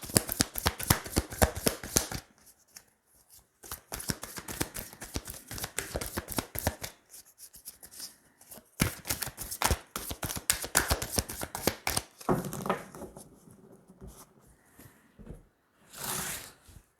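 Tarot cards being shuffled by hand, rapid bursts of crisp riffling and slapping in several rounds separated by short pauses, close and clear with no talking.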